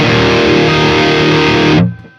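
A heavily distorted electric guitar chord rings out through a Boutique Tones BT MT15H overdrive pedal, sustained and loud, then cut off abruptly with a brief decay.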